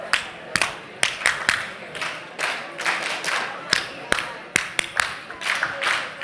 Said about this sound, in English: we can just clap it out.